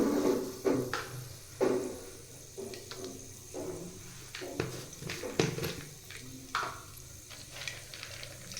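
Mustard seeds and curry leaves splutter in hot oil in a pan, with a close, irregular crackle of sharp pops over a steady sizzle and no voices.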